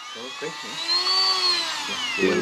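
A Dremel rotary tool whines steadily at high pitch while cleaning out pin and bolt holes in a powder-coated aluminum truck part, close by, with people talking over it.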